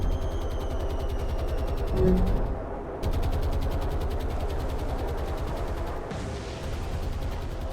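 Rapid machine-gun fire from Fulmar fighter aircraft strafing a transport ship in the naval war game War on the Sea, loud sustained bursts with a brief pause mid-way, engine drone underneath, no voices.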